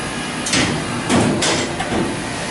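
Sfogliatella dough being fed through a dough sheeting machine at a bakery, giving a few broad whooshing, rumbling passes that rise and fall in a loose rhythm, fairly close and with no talk.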